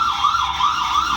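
A wireless light bulb security camera sounds its alarm siren, a loud nearby electronic wail that sweeps up and down in quick regular cycles without pause, with no voices over it.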